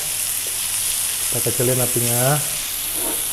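Salmon fillet sizzling as it grills in a pan on a lowered flame, a steady close hiss with a brief murmured voice partway through, fairly loud and continuous.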